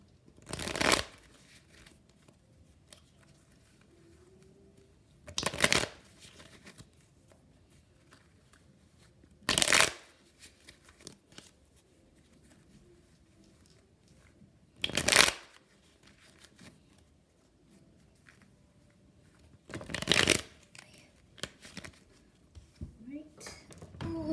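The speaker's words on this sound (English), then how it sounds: "I will do my shuffle" A deck of tarot cards is shuffled in five separate crisp bursts spaced about five seconds apart, close and clear against a quiet room.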